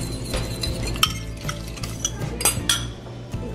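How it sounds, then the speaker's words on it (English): A spoon stirs thickened fish maw soup in a cooking pot, producing a steady series of close metallic clinks and scrapes against the pot at an irregular rhythm, with no one talking. "And just keep on stirring."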